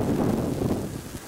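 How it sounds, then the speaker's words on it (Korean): Strong wind roars across the rocky summit of Ipamsan's Gatbawi peak near Jeongeup, a dense, steady rumbling buffet on the microphone with no other sounds. "상당히 센 바람소리가 지금 나고 있는데"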